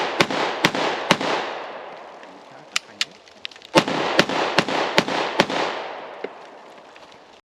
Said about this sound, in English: Felt like shooting the VIS-100 again.